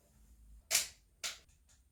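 Two sharp clicks about half a second apart, as a light switch is flipped off, close and crisp in a quiet room, followed by faint softer ticks.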